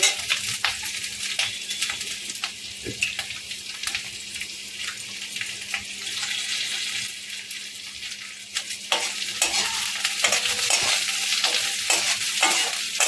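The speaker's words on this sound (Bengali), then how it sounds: "এখন কিন্তু হাই করে নিয়ে এটাকে ভালো করে নাড়বো পেঁয়াজটাকে দু চারবার ভালো করে নেড়ে নেব" Onions stir-fry on high flame for chilli cauliflower, a loud steady sizzle close by with repeated scraping stirs of a spatula against the pan throughout.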